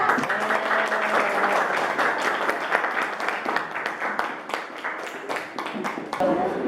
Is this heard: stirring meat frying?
no